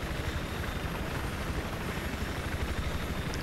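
Helicopter in the video game Battlefield 3, a steady dense rotor roar with rapid thudding pulses, close and continuous throughout with no talking.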